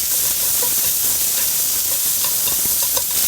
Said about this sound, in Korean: 양파를 어느 때까지 볶냐면은 이렇게 푹 물을 때까지 볶는 게 아니라 살짝 숨을 지우는 느낌이 납니다